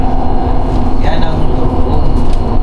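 Loud, steady rumble of a PNR train with its turbo engine whine running throughout, heard from aboard with a passenger's voice over the noise.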